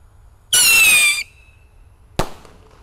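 A loud, bright hissing whoosh lasting about half a second as a rocket launches, followed after a pause by a single sharp pop.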